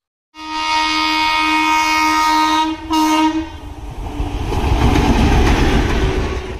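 The 13434 Malda Town–SMVT Bengaluru Amrit Bharat Express sounds a long, loud horn blast, pauses briefly, sounds a second shorter blast, then roars past close by with rumbling, clattering wheels.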